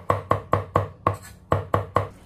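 Peeled garlic cloves being sliced and minced with a knife on a cutting board: eight sharp, evenly spaced chops in a steady rhythm, close and clear with no talking.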